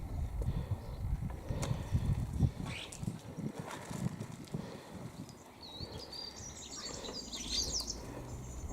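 Starlings feeding at a small garden feeder in East Yorkshire give faint chirps and whistles over a rustling, scratchy background with occasional wing flutters, heard at a distance without speech.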